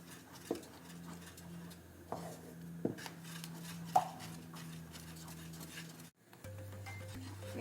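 Thickening broken-wheat halwa is stirred in a pan, with a few soft scraping knocks and spoon taps against quiet background hiss, fairly faint and close.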